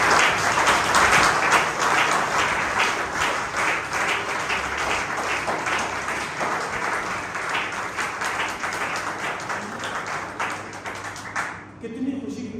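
A church congregation bursts into loud, sustained applause during a sermon, dense clapping that carries steadily for about eleven seconds before fading out near the end.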